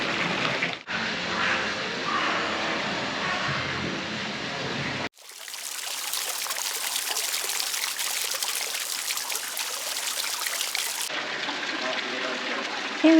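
Splashing water from the Maximilian (Roland) Fountain in Bratislava, Slovakia rushes steadily, shifting in tone across several cuts, a constant hiss-like wash with no clear pauses.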